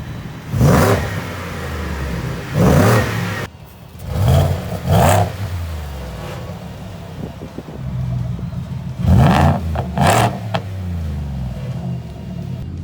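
A supercharged 650 hp 2019 Ford F-150 pickup revs repeatedly through a loud custom exhaust, each throaty burst rising and falling back to a rumbling idle, close by.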